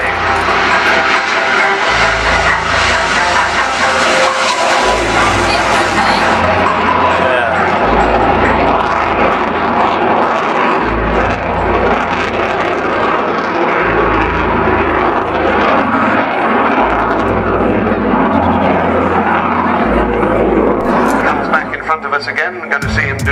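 A pair of Rolls-Royce Turbomeca Adour engines on a Jaguar GR3 jet spooling up at an air display, giving a loud, sustained roar that fills the whole clip with a heavy low rumble, while crowd noise and voices stay faintly beneath it.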